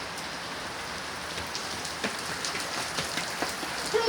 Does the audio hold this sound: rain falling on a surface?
yes